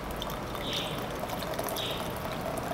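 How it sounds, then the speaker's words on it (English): Water pours in a thin stream into a thick matcha and macambo drink, a steady close trickle and splash without talk. "I'm not gonna add a lot more water, but I'm just gonna add a little bit more."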